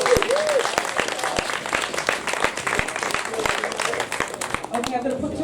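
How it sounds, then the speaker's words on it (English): Audience applause at a community show on street crime solutions, a steady wash of clapping with voices talking over it. "Thank you, Dr. Errol and Daniel, for your round of applause."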